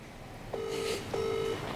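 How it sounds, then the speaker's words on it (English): Telephone call ringing on the line, heard as two long, even ring-tone beeps separated by a short gap, faint under a hiss, with no one speaking. "when she's picking this phone call up thinking it's me and it's Jackie McNamara on the other end of the line"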